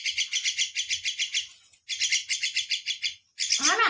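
A pet myna bird chirps close by in quick, rhythmic runs of bright, loud tweets, broken by two short pauses and ending in a rising, more varied call.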